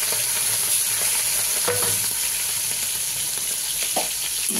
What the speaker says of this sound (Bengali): চিংড়ি মাছগুলো দিয়ে দিলাম,